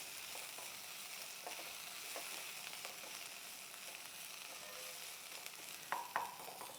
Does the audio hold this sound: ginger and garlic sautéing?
yes